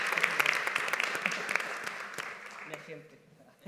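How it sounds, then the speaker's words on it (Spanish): Audience applause at a film awards event, a dense crowd clapping that starts strong and gradually thins out and fades over a few seconds. "que pido un gran aplauso, por favor"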